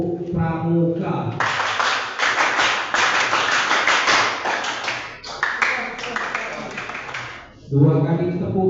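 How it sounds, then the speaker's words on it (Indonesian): A classroom group performs the Indonesian scout clap pattern, a rhythmic sequence of sharp, unified claps, with a voice calling out before and after. "Tepuk pramuka."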